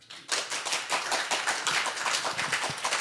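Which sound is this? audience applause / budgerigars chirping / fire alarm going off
audience applause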